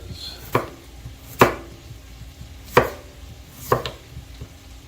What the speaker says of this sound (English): Sometimes I cube these potatoes, sometimes I slice them. Apparently today, I'm slicing.